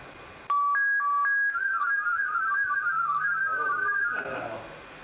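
An Olivia digital radio mode signal on HF: a few short beeping tones, then a wavering, warbling whistle-like tone that runs for several seconds before cutting off, heard on its own.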